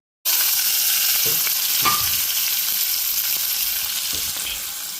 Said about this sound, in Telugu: ఆయిల్ వేసాను కదా ఇప్పుడు మనం పోపు గింజలు వేసేసుకుంటాం